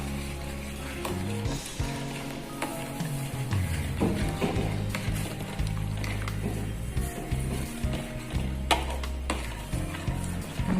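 Semolina being stirred into Nagore dhamroot halwa in a pan, a steady, close, continuous scraping and squishing with soft sizzling underneath, no talk.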